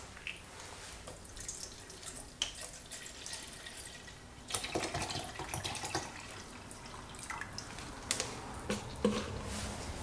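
Water, about 12 ounces, pours and splashes into a container with uneven gurgles and drips, closer and louder in the second half, with handling clatter and no talk.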